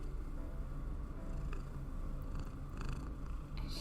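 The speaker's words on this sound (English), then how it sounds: "Can you guys hear her purring into the mic?" A cat purring right against the microphone, a steady low rumbling drone with soft rhythmic pulses that runs unbroken for the whole few seconds, close and with no talking.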